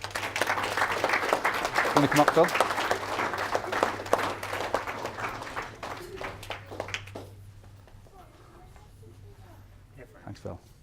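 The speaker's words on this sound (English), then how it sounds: "So please give him a big round of applause." A room of attendees at a soccer academy event claps loudly for several seconds, then the applause fades. Someone speaks over the clapping and continues into the quieter end.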